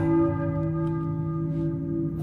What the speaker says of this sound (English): I hear a church bell, maybe? Who is ringing the bell?